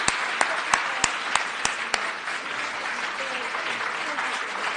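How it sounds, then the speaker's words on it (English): A large audience at a formal event breaks into sustained applause for a former First Lady, loud dense clapping with a few sharp individual claps standing out early on, continuing steadily throughout. "Let's give her a big round of applause."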